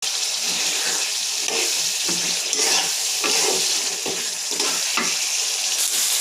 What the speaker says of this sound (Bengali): আমি আলুটা দিয়ে দিলাম। আলুটা এখন কষাই নেব।